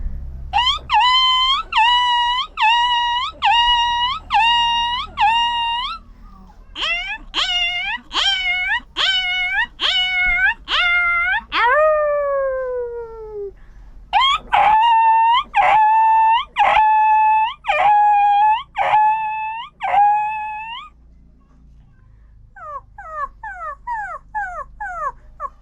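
A human voice imitates a series of dog sounds, including whimpering yelps, a long descending wail and rapid yips, delivered in short repeated bursts with pauses between groups, close and clear.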